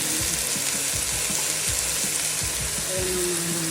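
Crab pieces go into a hot pan for a coconut milk vegetable dish, setting off a loud, steady sizzle with a run of knocks and scrapes close by.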